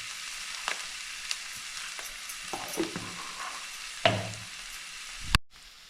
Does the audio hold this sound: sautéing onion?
yes